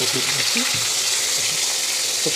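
Cauliflower florets sizzle and fry in hot oil in a pan while cooking a Bengali rohu fish curry, a steady bright hiss with soft stirring clatter and scrapes throughout, close and fairly loud.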